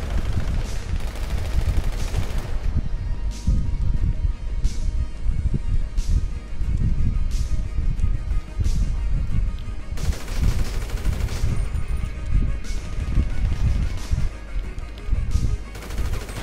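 Dense gunfire in GTA 5's Resurrection adversary mode, with repeated loud blasts including shotgun shots, crowding together across the whole stretch with no talk over it.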